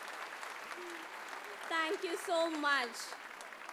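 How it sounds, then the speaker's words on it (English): Parents in the audience at a pre-primary school annual cultural programme applaud the junior and senior KG students with a soft, steady patter of clapping. A speaker's voice comes in over it partway through. "I request parents to give a very huge round of applause for the junior and senior KG"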